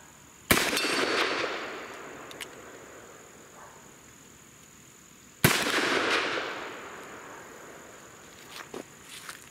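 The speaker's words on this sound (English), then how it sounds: "I'm shooting just over it, I think." Two loud, sharp revolver shots from a 4-inch Colt Anaconda .44 Magnum crack out about five seconds apart outdoors, each with a long decaying echo, and insects chirp faintly in the background.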